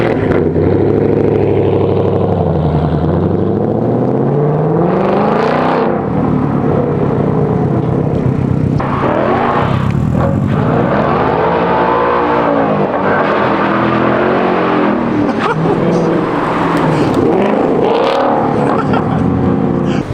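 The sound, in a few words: Subaru STi with titanium exhaust revving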